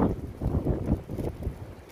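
Strong wind buffets the microphone in rough, gusty bursts, a low rumbling roar close up.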